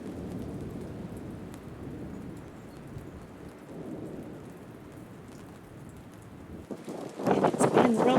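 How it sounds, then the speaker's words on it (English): Thunderstorm on a dark morning, with steady rain on surfaces and low rumbling thunder throughout, then a sharper burst of heavier rain or hail near the end. No speech. "thunder and lightning."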